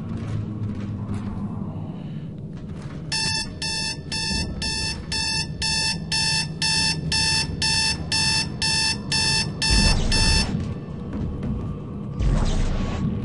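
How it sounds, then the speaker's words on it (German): An alarm clock rings in the video game Dead Space 2: a loud, fast, regular electronic beeping pulse that runs for several seconds over a low rumbling game ambience, then stops. "Blöder Wecker."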